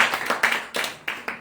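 A church congregation at a revival service claps in uneven bursts, several sharp hand claps per second with brief gaps, close and without talk.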